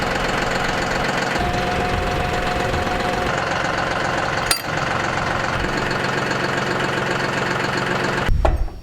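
A tractor engine idles steadily with a low, knocking rumble, continuous and close, with a brief sharp clunk midway and a surge near the end, on a ranch before hooking up a 12-foot batwing rotary cutter.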